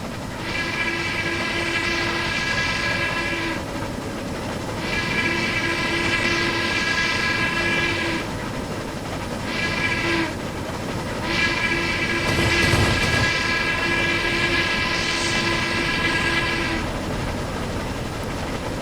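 A Harriman MC-1 2-8-8-2 steam locomotive in Trainz 2019 runs at 85% throttle near its 25 mph top speed, a steady mechanical rumble overlaid by long, sustained whistle blasts in several stretches, with no talking.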